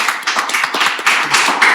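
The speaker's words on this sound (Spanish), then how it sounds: "Un último aplauso, por favor." Applause from an audience at a memory-sites event, a steady wash of many hands clapping for nearly two seconds, fairly loud and close, with no talk over it.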